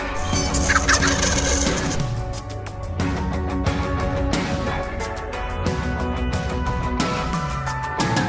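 Wild turkeys gobble on public land in Muskegon County, Michigan. Several loud, rattling gobbles break out in bursts over a busy, continuous background.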